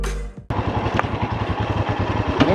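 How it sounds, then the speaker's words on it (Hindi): A motorcycle rides in second gear on a Himalayan mountain road, its engine throbbing in a steady, loud, close rhythm after a brief sharp cut near the start, with wind and road clatter mixed in. "मोस्टली बाइक चलेगी सेकंड गियर में,"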